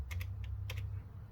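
A few quick clicks of computer keys tapped in a short, uneven burst, close and fairly quiet.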